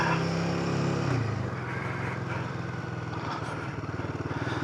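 Adventure motorcycles on a group ride through Walhalla in Victoria, Australia, engines droning loudly up close, one bike's pitch dropping as it eases off, then a steady rumbling throb.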